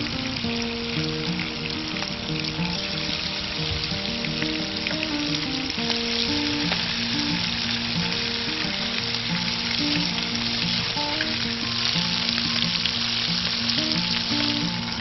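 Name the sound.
fish fillets sizzling while frying in a warm pan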